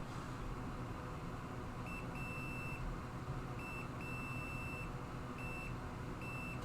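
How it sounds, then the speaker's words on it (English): A multimeter set to continuity, probing a capacitor on an iPhone 8 Plus logic board, gives repeated steady high beeps of varying length, some short and some held about a second, over a constant low background hum. "turn the multimeter on continuity to start with"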